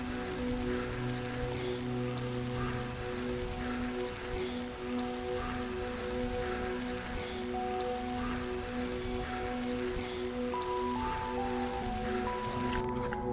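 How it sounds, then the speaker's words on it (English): Rain falling steadily during a motorcycle ride through a storm in a marginal desert region south of Trinidad, Colorado, a soft, continuous patter with a faint engine drone beneath, no voices. "There's a big storm. Sometimes it rains."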